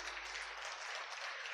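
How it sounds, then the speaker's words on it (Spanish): Congregation applauding the Lord during a Spanish-language church service, a brief, steady wash of clapping from many hands, faint and fairly distant, with no voices over it. "Dale un aplauso al Señor"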